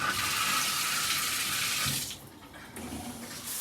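A handheld shower wand sprays water to rinse out a shower and tub, a steady loud hiss that drops to a softer splatter as the spray moves.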